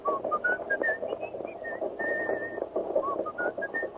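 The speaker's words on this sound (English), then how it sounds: "Go on, whistle it." Someone whistles a tune alone, a bright melody of short and held notes, close and clear over a faint low background hum.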